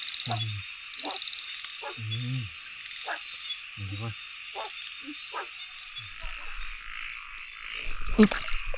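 Frogs in a forest give repeated low, throaty croaks in separate bursts, close by, over a constant high chorus of insects, with a handling rustle near the end.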